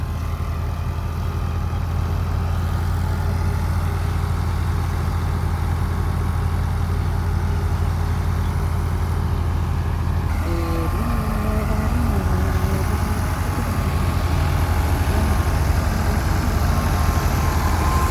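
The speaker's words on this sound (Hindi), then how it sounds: "ट्रैक्टर की आवाज़ सुन लें।" A Massey 385 tractor engine runs steadily at a low, droning idle-like pitch during harvesting in the rain, loud and continuous throughout, with a slight shift in tone partway through and no talk.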